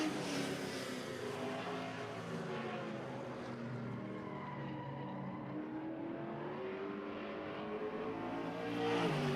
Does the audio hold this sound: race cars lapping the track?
yes